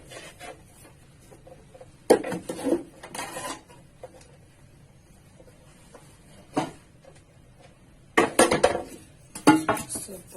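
A metal baking mold for butter bread clatters and scrapes in two close bursts as it is greased with butter, separated by quieter stretches, with no talk.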